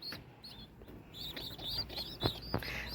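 Pigeon chicks in a loft of desi pigeons chirp in thin, high, repeated peeps, with a few sharper calls close by against a soft background murmur.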